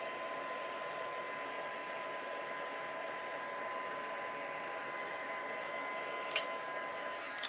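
A heat tool for heat setting embossing powder on a stamped card blows with a steady, even whir and faint hum, running alone with a couple of small clicks near the end.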